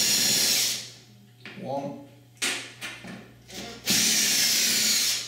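A power tool, likely a drill, removes the screws from a tilt-and-turn window handle, whirring loud in short close bursts at the start and end with brief clatter between, while a voice speaks once.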